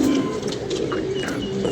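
Pigeons out in bad weather give a steady, low cooing murmur that runs continuously at moderate level, with faint higher chirps scattered over it and no voices.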